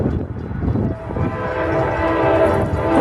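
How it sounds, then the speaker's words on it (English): An Amtrak train rolls through an interlocking diamond beside a historic signal tower, its horn sounding as it passes; a steady, loud rumble of passing railcars with a sustained horn tone through the middle and end. "We have Amtrak Train 91 about to go through this interlocking diamond with the historic TN Tower."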